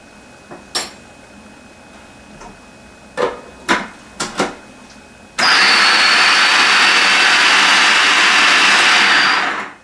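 A food processor whirs loudly and steadily for about four seconds, blending a raw carrot cake mixture, after a few scattered clinks and knocks at the start.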